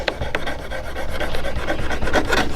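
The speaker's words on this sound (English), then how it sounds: "you can take your Opinel and come right down these edges and just take that extra leather off" Opinel knife blade scraping and paring excess leather off the edges of a strop, a steady close rasping rub with a few sharper strokes, continuous and fairly loud with no voices.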